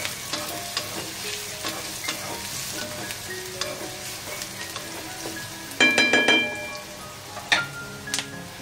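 Chopped onion sizzles steadily in a large kadhai while a spoon stirs and scrapes the metal, with a few louder clattering bursts partway through; no one speaks.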